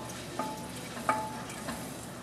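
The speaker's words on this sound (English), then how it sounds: "Stirring constantly." Milk being stirred into a sauce in a pan, with a steady soft sizzle and a few light scrapes and taps of a utensil against the pan.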